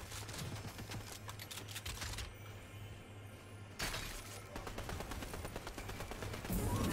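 Gunfire in Fortnite, rapid bursts of crackling shots in dense volleys, a brief lull in the middle, then more sustained firing resuming close and loud.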